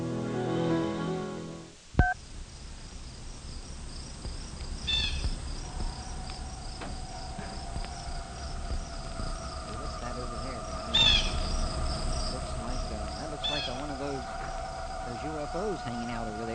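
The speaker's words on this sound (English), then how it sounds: "A couple of crickets there." Crickets chirp steadily in nighttime woods, a thin continuous trill heard faintly over a broadcast recording with background hum and a tone, after a sharp thump near the start.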